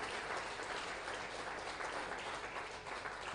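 Applause from a church congregation during a sermon, a steady dense wash of many hands clapping at moderate level, filling the whole stretch without a break.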